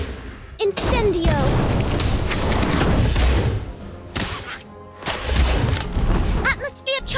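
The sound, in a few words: Incendio fire spell cast in Harry Potter video game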